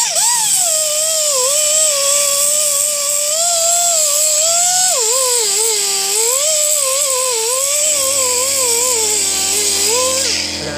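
A pneumatic orbital sander running on metal, a loud, high, whining buzz whose pitch wavers as pressure changes, steady for about ten seconds before the air hiss fades.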